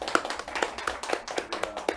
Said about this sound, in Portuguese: Palmas para Camilo Adas.